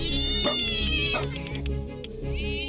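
Cat meowing in the video game Inkulinati, a run of drawn-out, whiny meows over continuous game music, steady and fairly loud throughout.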